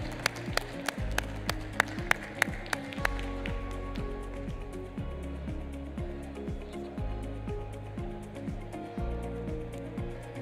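An audience applauds at a photography award ceremony, with a burst of sharp, distinct claps at first that settles into steadier clapping against a sustained low hum.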